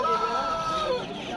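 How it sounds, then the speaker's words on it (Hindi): Roosters and hens at a crowded poultry market in Uttar Pradesh, with harmonic crowing and clucking close by and people talking throughout. "मुर्गे मुर्गे।"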